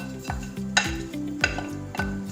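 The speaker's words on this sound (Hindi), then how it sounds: "अब इसमें प्याज जा रहा है।" Chopped onion frying in oil with ginger and garlic in a pot for a chickpea curry: a soft sizzle under repeated rhythmic scrapes and knocks of a spoon stirring against the metal, fairly quiet and close.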